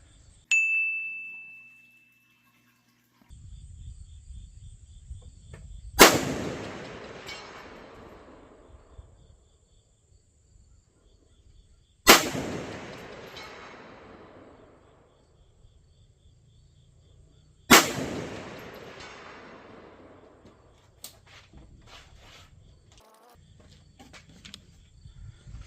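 Three loud, sharp rifle shots at roughly even intervals, each with a long decaying echo across an open range toward a target 300 yards away; a brief tone and low background rumble precede them.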